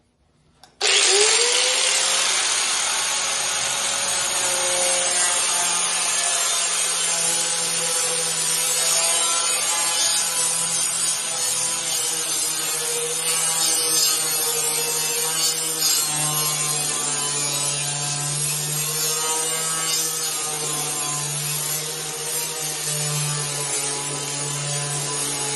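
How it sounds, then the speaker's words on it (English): A flap wheel on a power grinder runs against the edge of a hood scoop on a Dodge Charger, a loud, continuous whirring grind that starts abruptly and holds steady for the whole stretch. "I'm gonna flapper wheel this edge just a little bit. See if I can smooth it out some."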